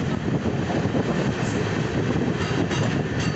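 Mussoorie Express passenger train running on rails near Ghaziabad, India, with a steady, loud, broadband rumble and rattle of wheels and carriages that holds without a break.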